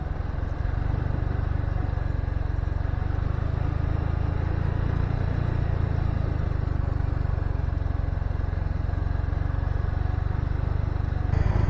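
A Suzuki Gixxer 250 motorcycle labors up a steep 25% mountain road on Mount Tsukuba in first gear, its engine a constant, close, low drone with no gear changes and no talking.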